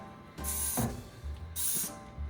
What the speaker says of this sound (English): you're gonna take your Dawn power wash spray and just spray inside